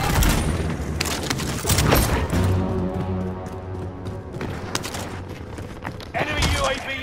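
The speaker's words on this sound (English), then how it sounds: "Enemy precision airstrike." Enemy precision airstrike in Call of Duty: Modern Warfare, with heavy explosions and thuds mixed into rapid gunfire bursts, loud and close, while players talk over the chaos.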